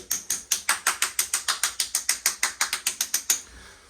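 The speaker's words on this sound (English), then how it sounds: "Should sound nice and solid like so." A rapid, even series of sharp hard taps on solid, well-bonded floor tiles, around twenty crisp knocks at a steady rhythm, close up with no voices.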